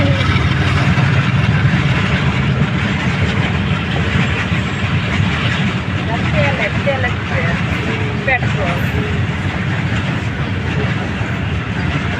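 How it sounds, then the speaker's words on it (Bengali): A train standing at a village railway station rumbles and idles steadily and loudly throughout, with faint clatter and background voices. "এখানে হচ্ছে কি একটা ট্রেন এসে আছে"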